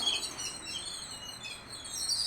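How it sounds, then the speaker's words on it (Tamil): Morning sparrows chirping and squabbling around a house, a dense overlapping chatter of high tweets, fairly close and steady for a couple of seconds, with no talk. "இங்கே பாருங்கள் இந்த குருவிலாம் எப்படி கத்திகிட்டு இருக்குதுன்னு"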